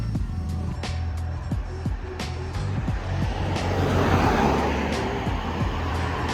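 Road traffic outside Bexleyheath Bus Garage in London, a continuous moderate rumble of passing vehicles with a swell of a nearer vehicle passing midway and scattered clicks and knocks on top.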